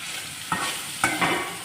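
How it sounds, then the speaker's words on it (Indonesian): Sausage stir-fried in a pan for Taiwanese-style fried rice sizzles steadily up close, broken by two or three sharp scrapes of stirring, with no voices. "Kemudian kita aduk. Kita tumis sebentar saja ya teman-teman."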